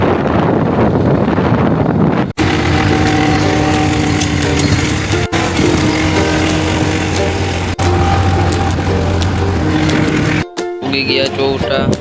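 A motorcycle engine drones steadily while riding on the road to Junagadh, loud and continuous under heavy wind buffeting, with brief dropouts and a short pause near the end.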